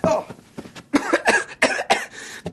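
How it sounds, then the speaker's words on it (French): A series of short, sharp coughs in an animated French scene, about five or six bursts in uneven rhythm, fairly close and loud, with no talking over them. "tu tousses, t'es malade?"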